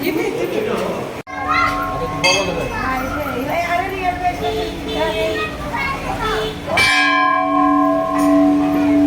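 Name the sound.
temple bell ringing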